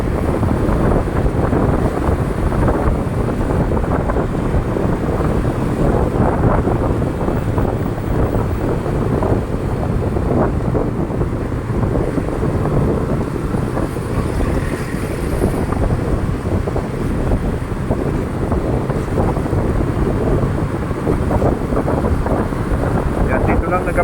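Heavy continuous wind buffeting on a microphone while riding through cold Tagaytay, a loud, dense rumble that never lets up for the whole stretch, with faint traffic underneath.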